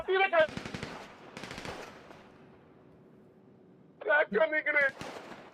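Rapid automatic gunfire in a GTA robbery game, two dense bursts separated by a quieter stretch, loud and close, with players talking over the shooting.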